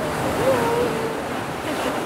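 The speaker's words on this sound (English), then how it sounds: "Still afraid of the waves?" Ocean waves wash onto a beach in a steady, fairly loud surf roar, with a brief tonal voice-like sound rising above the wash near the start.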